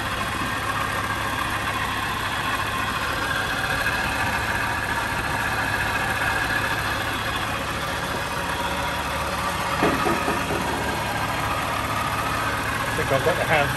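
A Land Rover Series IIa ex-military 2.25 petrol engine idles with a constant low rumble and slight vibration, a few faint voices murmuring near the end.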